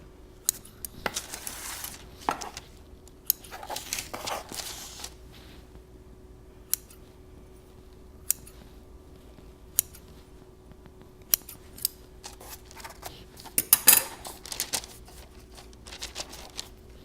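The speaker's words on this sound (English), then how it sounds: "I'm just going to take some kitchen shears and cut these pieces" Kitchen shears snip through pumpkin dinner roll dough in a series of quiet, sharp, scattered clicks, some in quick clusters and others spaced several seconds apart, with no one talking.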